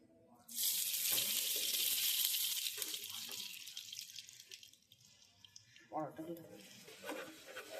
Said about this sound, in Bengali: এখন আমি ফ্রাই করে নিব।